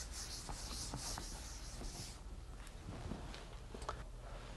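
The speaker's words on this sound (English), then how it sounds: "let me erase this, the math I did over here." Eraser rubbing writing off a board in a classroom setting, a soft continuous scrubbing for about two seconds, then fainter intermittent wiping strokes and light taps.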